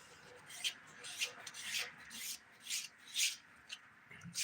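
A nail file smoothing the edges of fingernails, heard as close, soft rasping strokes in irregular bursts of about one to two per second with quiet gaps between.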